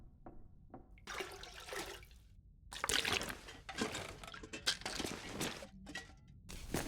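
Water running from a bathroom tap in The Long Dark survival video game, a hissing, splashing flow that starts and stops in several uneven bursts, fairly close and loud, with no talk.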